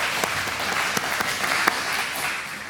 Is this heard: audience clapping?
yes